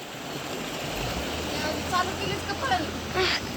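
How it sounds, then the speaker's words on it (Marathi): Steady rushing water fills the clip with a broad, continuous roar, with faint voices in the background. "लय आवाज येत पाण्याचा"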